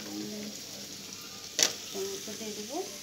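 Tomatoes go into hot oil with onions, giving a soft steady sizzle and frying hiss under a brief clatter, with a person's voice speaking faintly over it.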